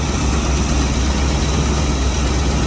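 A warmed-up C3 Corvette engine idles in a steady, loud low rumble with a constant drone and no break or rev, no voices audible.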